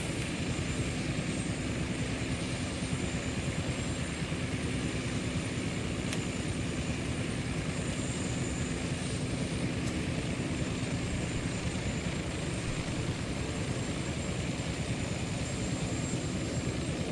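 Steady, droning Westland Wasp helicopter engine and rotor noise in a flight simulator, a constant whine and rumble holding at an even level throughout with no talking.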